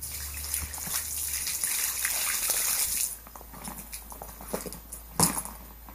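Water sloshes and gurgles inside a Tourit soft cooler as it is moved, a close, steady wet churning that eases off partway through, ending with a short splash and a light thump, with no talking.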